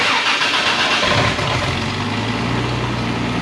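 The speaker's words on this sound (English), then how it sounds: "It doesn't sound like any much louder without the muffler." A car engine with no muffler cranks and catches, then settles into a loud, rough, throaty idle up close with no other sounds.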